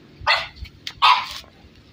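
Golden retriever or beagle puppy giving two sharp, close barks about a second apart, with soft scuffling and quiet room noise between them.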